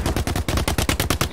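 Rapid automatic gunfire in The Cycle Frontier, about a dozen evenly spaced loud shots in a tight rhythmic burst, close and alone with no voices.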